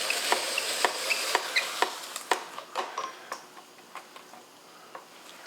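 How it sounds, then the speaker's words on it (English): Hand-cranked apple peeler working through an apple as it peels, cores and slices at once: a run of quick, fairly close clicking ticks with faint scraping between them, no talking. "I just have to show you this handy dandy apple peeler that I got"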